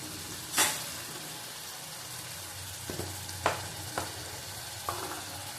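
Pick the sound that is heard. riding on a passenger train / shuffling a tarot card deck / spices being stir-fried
spices being stir-fried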